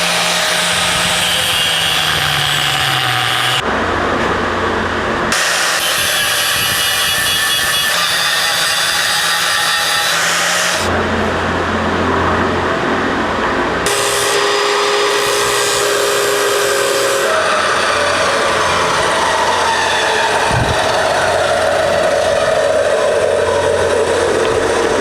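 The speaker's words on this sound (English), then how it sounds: "So I'm grinding away at this thing, and you can see where the metal starts to change." An angle grinder works on a hard metal vehicle axle with a softer sleeve, a loud continuous grinding whine that breaks off briefly several times and resumes, close by throughout.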